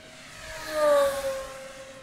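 A Flightline Velocity 950 flying-wing RC racing plane speeds past overhead, its thin engine whine swelling to a peak and then fading with a slight pitch drop.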